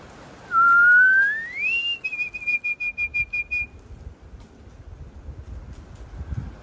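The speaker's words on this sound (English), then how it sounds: "I'm going to blow my whistle and see if my dogs come running" A single loud whistle blast to call dogs, rising in pitch, then a rapid trill of short whistle pulses, followed by outdoor wind and rustling.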